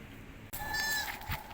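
A single goat kid bleats close by, one wavering, drawn-out cry that breaks out of a quiet background and fades after about a second.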